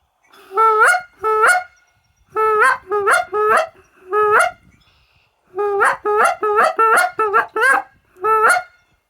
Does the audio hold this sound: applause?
no